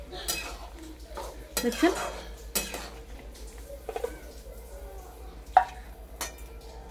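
Fish curry with ginger and green chilli being stirred in a pan: scattered utensil scrapes and clinks against the metal with light sizzling underneath, a brief spoken word in the middle.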